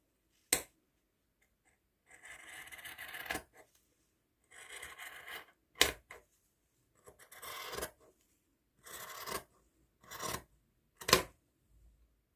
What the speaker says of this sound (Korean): 자, 이렇게 가장자리 하얀 부분을 다 가위로 잘랐습니다.